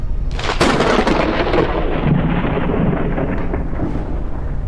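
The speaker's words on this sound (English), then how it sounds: "I don't know if it's wise to actually traverse between platforms when there's a storm." A thunderstorm rolls through in the airship survival video game Forever Skies, with a loud crack of thunder giving way to long, heavy rumbling over steady rain and wind, and no voices.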